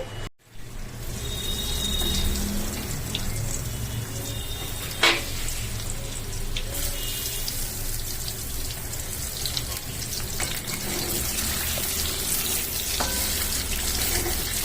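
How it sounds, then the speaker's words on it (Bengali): Paneer cubes fry crisp in a generous amount of hot oil, giving a steady hiss and light crackle that carries on throughout with a few sharper pops. No one speaks. "আমরা পনিরগুলোকে বেশ কড়া করে ভেজে নেব"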